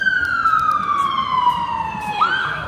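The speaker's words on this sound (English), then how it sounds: "Here's the ambulances of Dublin right on time." Ambulance siren on a Dublin city street, a loud sustained tone gliding slowly downward for about two seconds before jumping back up, with traffic noise beneath.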